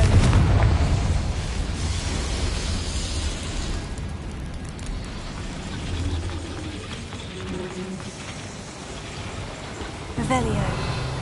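A Confringo spell blast in Hogwarts Legacy gameplay, a loud, rumbling burst of noise that fills the clip with grinding, crackling texture and a sharper hit near the end, heard under a talking voice.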